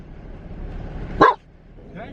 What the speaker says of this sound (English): He's barking at the rocks.